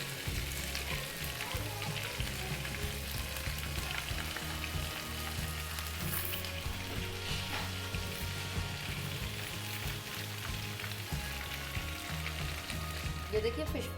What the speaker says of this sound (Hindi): ये देखिए दोनों साइडों से हो चुकी है फिश फ्राई।